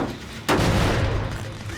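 A generator blows up in the video game Dead by Daylight, a sudden loud booming burst that cuts in abruptly and then trails off into a rough, rumbling decay.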